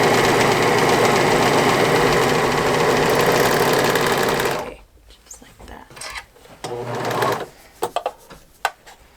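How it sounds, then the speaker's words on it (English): A serger runs in a fast, steady, loud mechanical chatter for about four and a half seconds, overlocking the edge of an interfaced fabric brim for a bouffant surgical scrub hat, then stops, leaving faint handling clicks and rustles. "I'm going to serge the edge of the interface side"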